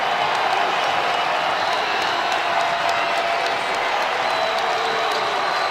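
Basketball arena crowd at a Wright State versus Northern Kentucky college game, a steady loud roar of cheering and applause filling the whole stretch without letup.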